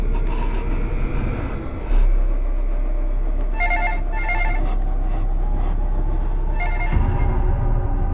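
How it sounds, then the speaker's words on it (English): Telephone ringing in eerie Backrooms footage, a few shrill electronic ring bursts in a repeating pattern over a loud constant low hum, with no talk. "The phone begins ringing again"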